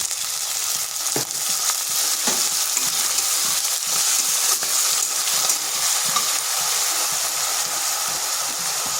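Loud, continuous frying hiss fills the clip as potatoes crackle in a pan, with faint ticks of stirring.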